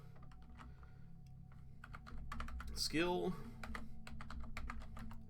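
Console commands are tapped out on a computer keyboard while playing Dead State, a quick run of distinct key clicks spread across the stretch, with someone briefly talking in the middle.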